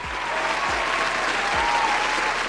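A crowd applauds steadily, a dense wash of clapping that stays loud and even from start to finish.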